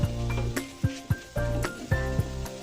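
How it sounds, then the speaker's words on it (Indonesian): Slices of white bread toasting in a pan while being stirred, giving a soft sizzle broken by repeated sharp spatula scrapes and clinks against the pan, close and steady. "Dan kita panggang aja ini sambil diaduk-aduk ya."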